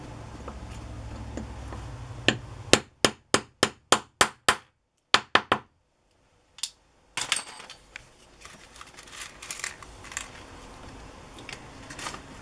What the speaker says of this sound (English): I'm going to go ahead and set this with my hammer again